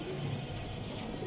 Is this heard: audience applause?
no